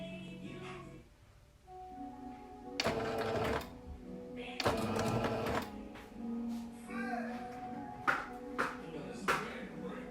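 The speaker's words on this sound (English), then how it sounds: "we're just gonna back stitch it first." A sewing machine back stitches wig hair in short bursts, the motor whirring and needle chattering close by in two or three runs separated by pauses with faint handling noises and a tonal hum between.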